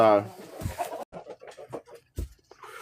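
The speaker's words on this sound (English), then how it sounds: "keep chickens. Yes, they are. Got lots of different breeds." Chickens of several different breeds clucking in a pen during farm chores, a series of short clucks close by, with someone talking over them.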